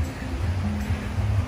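Waves break and wash along the shore of a Mexican beach where seaweed floats near the waterline, a continuous low rumbling surge that rises and falls, close and steady with no voices.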